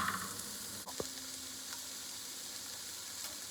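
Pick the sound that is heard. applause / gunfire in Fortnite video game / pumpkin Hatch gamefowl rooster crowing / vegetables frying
vegetables frying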